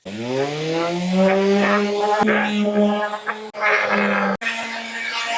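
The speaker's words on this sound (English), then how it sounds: "We're gonna sand whatever finish is on here." A power sander works the old finish off a wooden stool outdoors with a loud, sustained buzzing whine that rises in pitch, broken by two sharp cut-outs as the tool stops and restarts.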